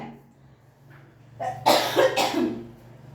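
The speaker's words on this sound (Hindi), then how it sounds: "सॉरी, मुझे थोड़ा खांसी आ रही है आज।" A couple of loud, close coughs break out after a quiet moment, harsh and breathy, with no talking around them.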